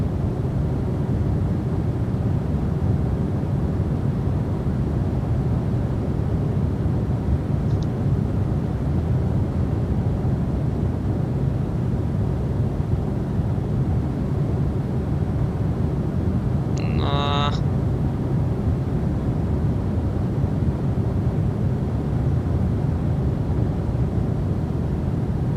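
Steady, loud broadband engine roar inside a Norse Atlantic Airways Boeing 787-9 airliner taking off from Oslo, constant rumble throughout with a brief faint chime midway.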